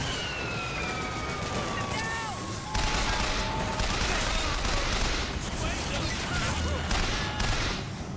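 Rapid bursts of turret gunfire in the video game BioShock Infinite ring out over a dense, noisy game soundscape that includes siren-like tones. The firing continues steadily throughout, loud and close.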